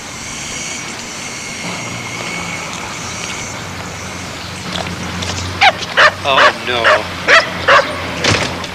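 A large dog barks repeatedly in a quick series of loud, close yaps from an alley entry on a residential street, following a stretch of quieter street ambience; a brief spoken exclamation occurs.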